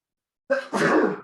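A single close sneeze, a sharp intake followed by a loud burst, alone in silence during a tabletop game session.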